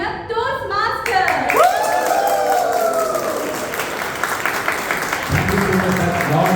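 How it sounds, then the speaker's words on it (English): Audience at a Toastmasters club anniversary meeting breaks into loud, sustained applause and cheering, with a voice carrying over the clapping early on and the crowd noise holding steady throughout. "Give me a loud round of applause if you love being a Toastmaster."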